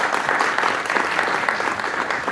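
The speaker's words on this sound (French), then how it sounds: "vous pouvez les applaudir" Dense, loud applause fills the hall at the Kenleurenn 2023 costume event in Spézet, a continuous roar of many hands clapping at once with no gaps, steady in level throughout.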